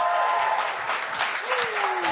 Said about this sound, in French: applaudissements pour le premier, il brise la glace, Jonathan Dion!